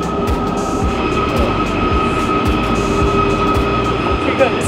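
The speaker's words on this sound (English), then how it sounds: "So this entire train ride is through a tunnel." A train climbing through a long mountain tunnel toward Europe's highest train station, with a steady loud rumble of wheels and a rhythmic clatter over rail joints, plus a high whine running throughout.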